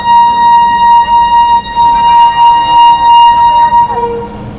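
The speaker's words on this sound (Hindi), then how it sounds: "वहाँ पे आप देख सकते हैं कोच्ची वैली की ओर जाने वाली राप्ती सागर एक्सप्रेस छूट चुकी है प्लेटफॉर्म नंबर 2 से" The Rapti Sagar Express pulls out of platform 2 at Kanpur Central, a large railway station. A loud, sustained train horn blares for several seconds over the rumble of the moving train and fades near the end.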